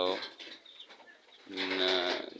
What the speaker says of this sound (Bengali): এই যে আমার একজোড়া নূতন কবুতর